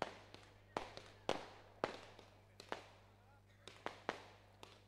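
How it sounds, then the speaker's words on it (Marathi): Fireworks going off at an outdoor prize ceremony for a Seawoods box league tournament: about a dozen sharp pops at irregular intervals, faint and distant, each with a short echo, over a low steady hum and faint voices. "फटाक्यांची आतिषबाजी होते."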